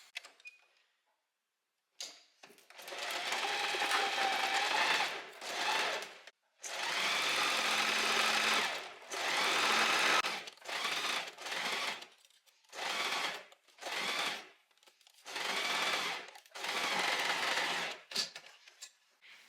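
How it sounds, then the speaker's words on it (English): A sewing machine stitches linen pants pattern pieces with a 1 cm seam allowance, running in repeated close, loud bursts of rapid whirring separated by short pauses. "we're gonna start sewing what we have pinned together earlier"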